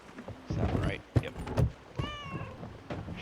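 A house cat meows indoors, a short rising call near the end, after bursts of louder talking and a few thumps.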